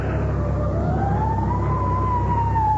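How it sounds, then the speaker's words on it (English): A fire engine siren wails in a loud, slowly rising tone, steady and close, over a low rumble of traffic, with no voices. "Fire engine?"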